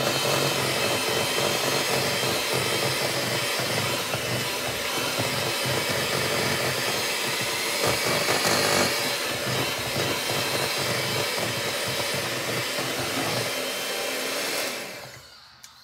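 An electric mixer whirs steadily through brown sugar batter, a continuous loud motor drone with faint rhythmic beating, cutting off near the end.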